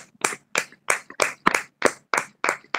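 At a women's fellowship prayer meeting, a group claps hands together in a steady, even rhythm of about nine loud, crisp claps with short silences between them.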